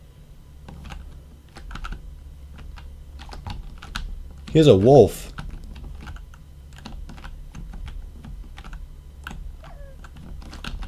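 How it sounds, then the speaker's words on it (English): Computer keyboard typing during a Minecraft game session, quick irregular clicks and taps scattered across the whole stretch, close to the mic, with a voice talking briefly midway. "Sorry, guys, if you can hear the keyboard"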